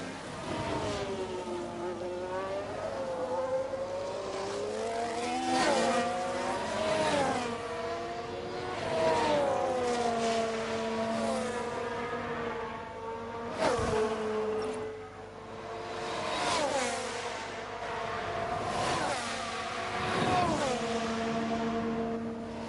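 Formula 1 cars race at Spa-Francorchamps in the F1 Manager 22 game, with engines howling and shifting pitch as they pass one after another in repeated waves, fairly loud and continuous.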